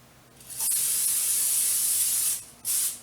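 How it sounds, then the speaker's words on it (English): A can of olive oil cooking spray hisses in one long steady burst, stops briefly, then gives a second short spray. "I use the olive oil spray."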